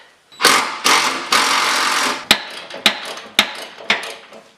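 Impact wrench removing bolts from a Jeep CJ7 front fender: a few long, loud rattling bursts, then a run of sharp, evenly spaced hammering blows, close and alone.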